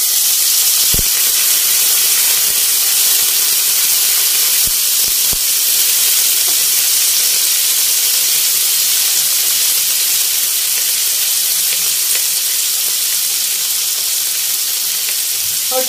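Two medium sliced onions fry in oil on a medium flame with a loud, continuous close sizzle and hiss, broken by a few faint clicks.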